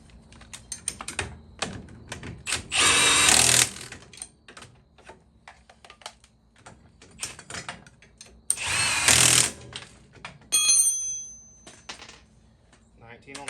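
A power tool tightens the tie rod on a Polaris RZR Turbo, letting out two loud, dense bursts several seconds apart. Lighter clicks and shop clatter fill the gaps between them.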